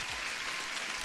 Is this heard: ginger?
no